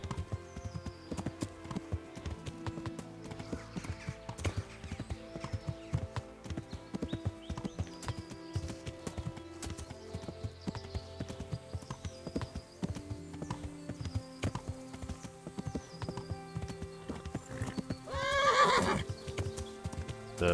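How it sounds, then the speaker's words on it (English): A horse's hooves clip-clop steadily along a road in Kingdom Come: Deliverance, then a loud whinny near the end. "The Pebbles, the horse, is getting tired."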